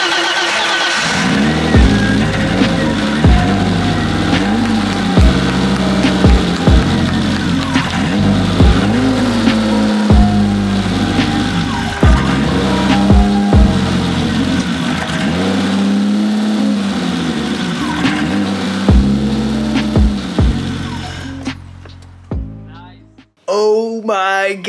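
A BMW E30 325i engine runs just after its first start, not yet idling properly: a loud, continuous mid-pitched drone that surges and dips as revs rise and fall, then cuts off abruptly near the end.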